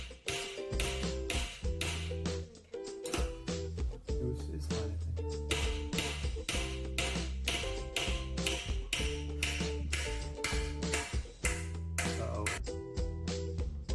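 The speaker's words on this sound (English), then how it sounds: "We hammered a nail through the tabletop to stick the corn on." A nail hammered through a wooden tabletop for a squirrel feeder craft: a long, steady run of sharp, evenly spaced taps, close and loud, over a constant tonal background.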